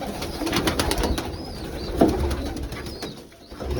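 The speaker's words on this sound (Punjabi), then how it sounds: "ਇਹ ਜੇ ਕਬੂਤਰੀ ਆ ਗਈ ਹੁਣ" Pigeons coo softly in low, throaty murmurs amid a busy background of rustling and faint clatter.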